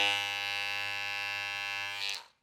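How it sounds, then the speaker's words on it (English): A Wahl Detailer hair trimmer buzzes steadily and close up with a bright electric whine, then cuts off abruptly near the end, leaving silence. "it just feels like a normal trimmer, to be honest"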